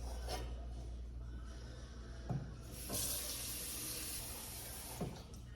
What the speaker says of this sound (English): Last thing to do is fill up with water and put it on the stove.